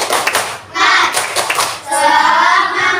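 Several people in a primary school classroom clap their hands in short rhythmic bursts, a group clapping pattern with brief pauses between sequences.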